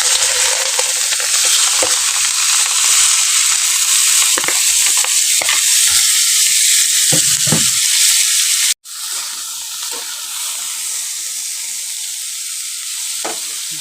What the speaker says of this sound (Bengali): এখন আমি ফুলকপিটাকে একটু ভেজে নেব।